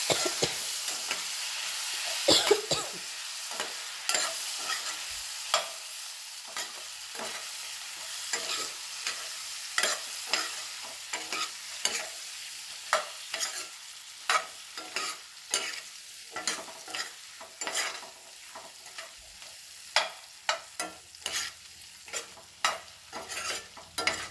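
Raw plantain slices frying in oil with a steady, close sizzle, punctuated by repeated sharp scrapes and clinks of a spoon stirring the pan throughout.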